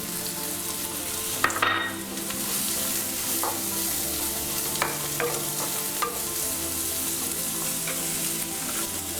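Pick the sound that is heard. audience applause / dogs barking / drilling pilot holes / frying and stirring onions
frying and stirring onions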